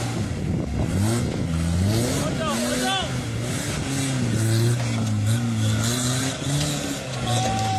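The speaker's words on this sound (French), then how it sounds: "Il roule, c'est tout ce qu'on lui demande à ce bon vieux C15." An old Citroën C15 car drives along with a steady engine hum running underneath someone talking.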